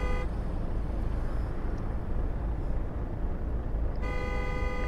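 In Euro Truck Simulator 2 on the RusMap, a car horn blares steadily at the start and again near the end over a constant low engine and road drone inside a Mercedes Actros truck.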